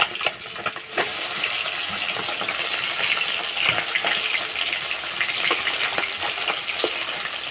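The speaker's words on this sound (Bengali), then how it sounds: "আর মাছগুলো একটু কড়া করে ভেজে নেব।" Bata fish frying in hot oil, a steady loud sizzle and crackle with sharp spitting bursts throughout, close up and with no voices.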